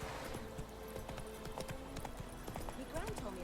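Horse hooves clip-clopping while riding in The Witcher 3 video game, a steady rhythmic trot of soft thuds heard under a voice.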